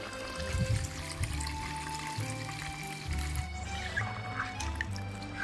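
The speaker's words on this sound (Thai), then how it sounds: "จะเทน้ำลงนะคะ" Water poured over java plum fruit in a pot for homemade wine, a gurgling, trickling fill with shifting liquid tones and splashes, close and fairly quiet, with no talk.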